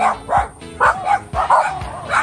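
A dog barks and yips repeatedly and loudly up close in a quick, uneven rhythm.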